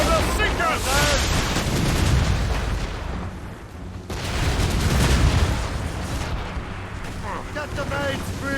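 Ship cannons in Assassin's Creed Rogue boom in heavy repeated volleys during a naval battle, deep rumbling blasts that roll over each other while crew voices shout beneath them.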